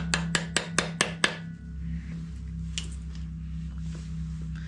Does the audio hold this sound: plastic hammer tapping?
yes